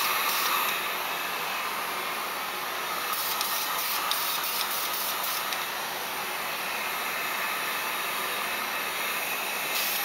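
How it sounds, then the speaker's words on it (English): A small heat gun blows hot air to dry primer on a model submarine, making a constant loud hissing whoosh that stays steady and unbroken throughout, close up with no talking. "just force it to dry with this little heat gun here"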